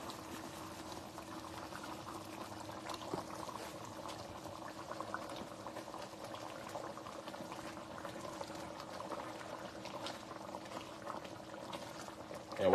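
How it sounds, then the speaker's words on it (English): Shrimp and crawfish étouffée pot at a rolling boil, with salted water bubbling steadily in an even, continuous churn at moderate level, with no voices. "While it's at the rolling boil"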